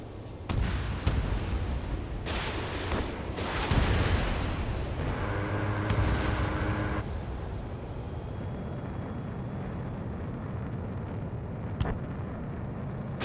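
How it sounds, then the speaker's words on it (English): A missile launch and explosions in the flight combat game Ace Combat 7, flying an F-35: a few sharp blasts and a long roaring rush, then a steady jet drone that fades gradually, with no talking. "Missile away."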